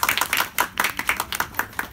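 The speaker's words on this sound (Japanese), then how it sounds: "拍手。" An audience applauds at a talk show with Takahashi Meijin at a Book Off event in Shin-Nagata, Japan: brief, dense, steady clapping from many hands, fairly close, with no voices over it.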